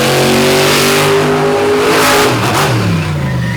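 Race car engine revving hard and accelerating down a drag strip at a Benson, North Carolina night event, a loud continuous roar with rising and shifting pitch throughout, no talk.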